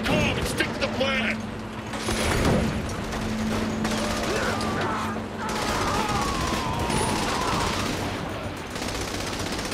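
Rapid bursts of gunfire and machine-gun fire erupt in the video game Saints Row: The Third, dense and continuous over engine noise and game effects, with shouted voices mixed in.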